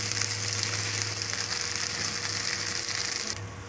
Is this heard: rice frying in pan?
yes